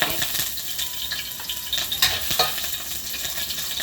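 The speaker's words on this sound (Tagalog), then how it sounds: "Panggisa sa ating mga ricado." Ginger and other aromatics sauté in oil in a pan for stingray adobo, a steady close sizzle with light crackles and a few faint metallic clinks, no speech.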